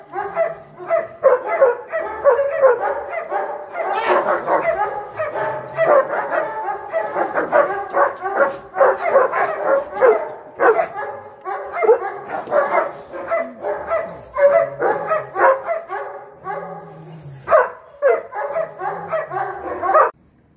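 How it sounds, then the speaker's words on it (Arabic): A dog barks rapidly and repeatedly during bite training, loud and close, with yips and brief whimpers between the barks and almost no pauses. "الكلب يبتدي يشتغل ويبتدي يعض ويبتدي يمسك"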